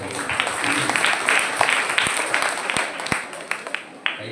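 Audience applause fills a church hall during a St. Mary's Day celebration at St Antony's Forane Church, Thotathady: a steady wash of many hands clapping, with a few sharper claps standing out as it thins toward the end.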